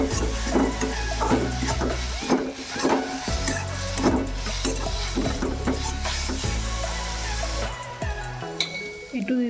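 Cumin, coriander and chili powders are stirred as they fry in a pan for a masala kulcha, giving scraping, knocking spoon strokes over a steady low sizzle, with a voice speaking throughout.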